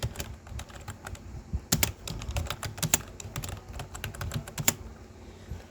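Quick, irregular keystrokes on a computer keyboard as a name is typed into an editable Japan visa application form, close and fairly loud, with no talking.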